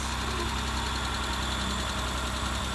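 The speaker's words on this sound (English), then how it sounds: "There's a little tick. That's from the valve." A Mitsubishi Eclipse engine idles steadily close by, a continuous low rumble with a faint, regular ticking from a valve running through it.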